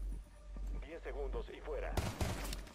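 Gunfire in the tactical shooter Rainbow Six Siege crackles as a few sharp, broadband bursts near the end, preceded by talk and game sounds.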